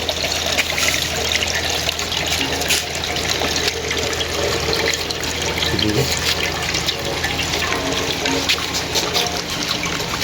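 Homemade wine runs through a tube in a steady, loud, close trickle that continues unbroken for the whole stretch.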